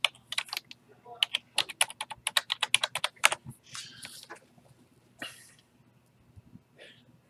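Keystrokes on a computer keyboard while logging into a Hikvision/LTS CCTV DVR, a quick run of close, crisp clicks over about three seconds, then a few scattered taps and soft rustles before going quiet.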